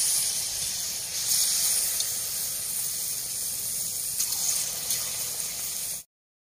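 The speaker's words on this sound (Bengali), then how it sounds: "তেলটা গরম হয়ে গেছে। এবার বড়ার আকারে অল্প অল্প করে দিয়ে দেবো।" Palm fruit fritter batter spooned into hot oil in a kadai gives a steady, bright sizzling hiss close up that holds evenly, then cuts off abruptly.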